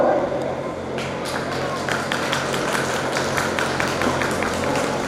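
Audience applauding at a school graduation ceremony, steady clapping with crowd murmur and a few sharper individual claps, holding at moderate level throughout.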